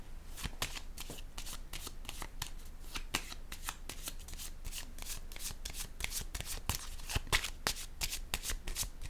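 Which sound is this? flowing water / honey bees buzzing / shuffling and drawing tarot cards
shuffling and drawing tarot cards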